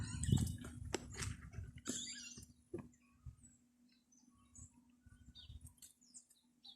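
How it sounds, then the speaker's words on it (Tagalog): Birds sing outdoors, with scattered chirps and short calls coming from a distance. Sharp rustles and knocks break in nearby, and the calls are faint against a quiet background. "Ang ganda ng mga huni ng ibon."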